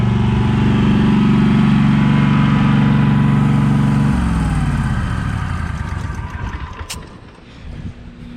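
A Toro 48-inch Turbo Force belt-drive walk-behind mower engine idling loudly with a steady drone, then winding down as it is shut off, with wind noise at the end.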